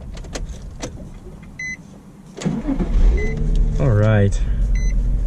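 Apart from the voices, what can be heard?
2003 Nissan 350Z Track Edition engine starting up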